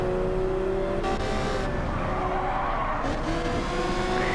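Race cars skid and squeal their tires through a racing video game, with the engines droning steadily underneath, loud and continuous and close, with no talking.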